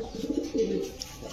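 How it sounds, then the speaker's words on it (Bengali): Rampuri fat pigeons cooing, a soft repeated coo that swells and fades across the moment, fairly close and clear with no talking over it. "অরিজিনাল রামপুরি ফ্যাটের কবুতর।"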